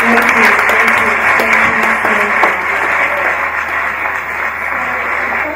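Audience applause for a presenter at a hackathon event, a steady wash of clapping hands holding for several seconds with a bit of background chatter mixed in and tapering slightly near the end.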